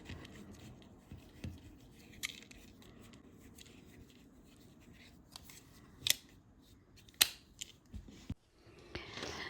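Titanium scissor blades snip through small fabric scraps being cut into 2.5-inch squares, giving quiet, sparse crisp cuts with a few sharper snaps over soft rustling and handling noise nearby.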